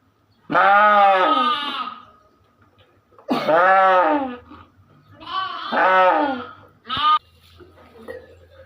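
A ewe that has just lambed for the first time bleats with her newborn lamb: four loud, close, wavering bleats, three long calls and a short final one, with quiet pauses between them.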